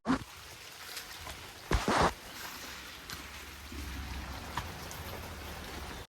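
Fine water spray from a sprinkler falling like drizzle across a summer silkworm farm, a steady soft patter with a louder burst of splashing near the start and a low continuous hiss.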